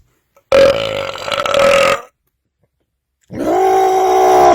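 Two loud, long belches from a man after drinking cream soda and Dr Pepper, each a deep droning burp of about one to one and a half seconds, separated by a short silence, close to the microphone with no talking.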